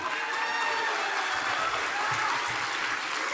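A large crowd of supporters applauds at a Donald Trump campaign rally in Hilton Head, South Carolina. Dense, steady clapping fills the whole stretch at an even, loud level.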